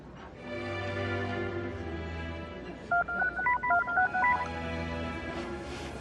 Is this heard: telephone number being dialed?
yes